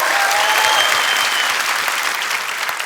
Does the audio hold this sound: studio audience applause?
yes